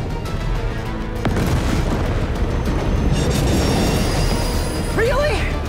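A train derailing in Spider-Man 2: a loud, sustained rumbling crash with deep booms and grinding metal that runs through the whole stretch, a sharp hit early on and screeching near the end, with voices heard faintly in the mix.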